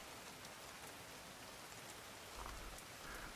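Steady rainfall in the video game The Division, soft and even like rain on surfaces and rooftops, continuous and fairly faint with no voices.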